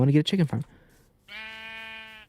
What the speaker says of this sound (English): Don't worry, sheep, you're next. I know you're complaining, but you're next, I promise.